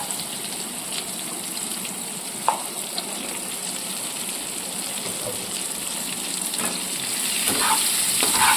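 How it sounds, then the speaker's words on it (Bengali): Ridge gourd fries in a pan for sukto with a constant loud sizzle, broken by a few sharp scrapes of a spatula stirring it, and the hiss swells slightly toward the end. "খুব ভালো করে ভেজে নিচ্ছি"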